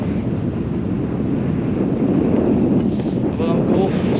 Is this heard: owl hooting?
no